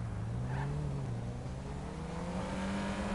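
A video-game car speeds along with a steady, loud engine drone that rises slightly in pitch, continuous and close with no talking.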